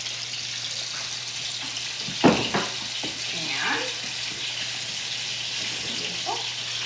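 Salmon fillets, including small tail-end pieces, searing in a pan with a steady moderate sizzle and a couple of brief clanks or spatters midway, close by with no talk.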